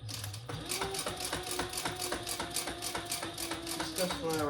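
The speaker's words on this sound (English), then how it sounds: "All right, let's top stitch." A sewing machine top-stitches a crossbody bag in a steady rapid mechanical chatter of needle strokes, close and even for several seconds, with a brief pause at the start.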